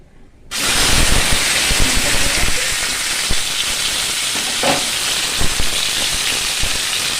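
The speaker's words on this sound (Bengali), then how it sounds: "খেজুর দিয়েছি, শুকনো লঙ্কা ফোড়ন" Dry red chillies hit hot oil for a tempering in a home kitchen, breaking into a sudden loud, close hissing sizzle after a brief quiet start that then holds steady and strong.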